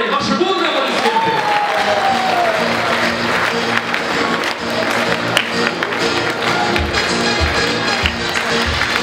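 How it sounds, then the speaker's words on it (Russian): A concert audience applauds, a dense burst of clapping that fades as music and a voice come in, with talk present near the start. "Ваши бурные аплодисменты."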